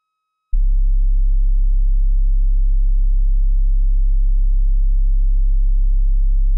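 A pure, steady low sine tone from a software modular synthesizer starts abruptly after a moment of silence and holds unchanged at constant loudness.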